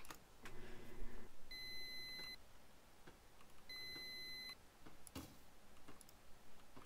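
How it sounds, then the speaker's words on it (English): Repeated electronic oven beeps from a kitchen in the horror video game DogHouse 2, two bursts of steady high tones separated by a pause, over low ambient game noise and a few clicks. "Why is the oven beeping?"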